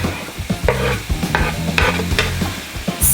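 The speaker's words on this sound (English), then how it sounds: "Stir everything." Pepper, carrot and onion frying in a pan for Ukrainian borshch, stirred with loud, close scraping strokes in quick succession over a sizzling bed, no voices.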